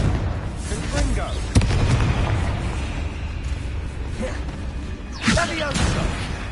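Confringo fire spell in Hogwarts Legacy, cast at spiders: two sharp booming blasts, one early and one later, each with a crackling burst over a steady rumbling game background.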